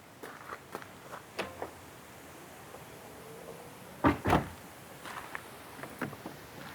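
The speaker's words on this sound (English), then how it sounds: "You can close all the doors via the key" Doors of a BMW i7 shutting automatically on command from the key: two heavy, close thuds in quick succession, with lighter clicks and mechanical knocks scattered before and after.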